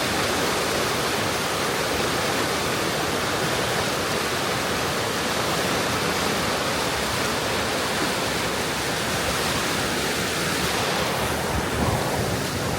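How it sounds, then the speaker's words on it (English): Floodwater of the River Soar in January 2025 pours over the top of a lock at Barrow upon Soar, Leicestershire: a loud, steady, close roar of rushing water that holds unbroken throughout, with no voices. "Obviously it's just pouring off the River Soar here."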